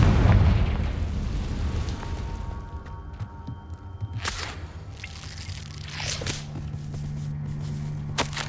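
Fiery Confringo spell blasts in the Hogwarts Legacy video game: a loud opening burst followed by sharp crackling impacts and a lingering rumbling hum, with no talk.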